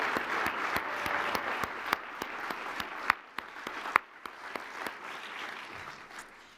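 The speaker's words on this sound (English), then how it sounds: "Please join me in a round of applause for our 2024 honorees." Applause from an awards-ceremony audience honoring university alumni, mostly steady moderate clapping with a few louder individual claps standing out, sustained for several seconds at a fairly distant, modest level.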